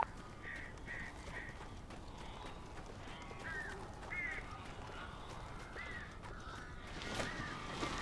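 Crows caw in Alan Wake Remastered, a few short repeated calls spread over the scene, fairly faint over a low game ambience, with a sharper burst near the end.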